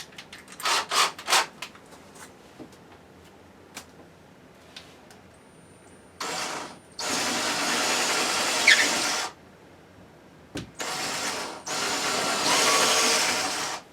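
Power drill enlarging a hole in drywall for molly anchors, a few short bursts of whirring separated by quiet gaps, with light taps and handling at the start and no talking.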